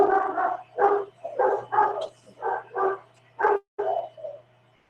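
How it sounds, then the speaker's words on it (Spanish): A small dog barking repeatedly, about ten sharp close barks in an uneven rhythm with short gaps, heard alone against a faint hum. "Hay un perrito ahí, ¿no?"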